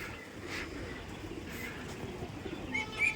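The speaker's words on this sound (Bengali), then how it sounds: "এটা হচ্ছে সুমন ভাইয়ের ছাদের উপরে ওনার অনেক পুরানো একটা সেট আপ কবুতরের।" Pigeons in an old rooftop pigeon setup give soft, faint coos and occasional chirps over a steady outdoor hum, with a slightly louder call near the end.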